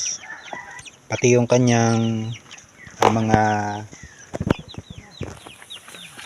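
Chickens 45 days old cluck and call in bursts, including two longer strained crowing calls, with someone speaking between them.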